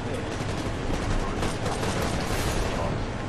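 Rapid bursts of gunfire from the video game Titanfall form a dense, continuous barrage of loud shots, steady throughout with no pauses.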